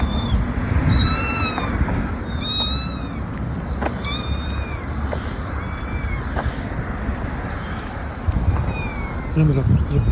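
Recorded cat meowing plays from a phone outdoors by a house, a string of short, bright meows repeating about every second or so over a busy background of rustling and ambient noise.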